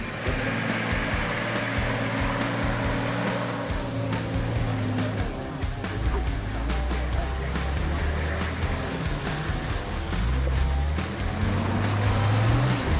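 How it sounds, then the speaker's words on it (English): Motorbikes and four-wheel drives rumble continuously as they drive nearby on an outback dirt track, a steady low motor drone with shifting revs and no clear pauses. "we've got some motorbikes here in front of us, and we've got some four-wheel drives as well"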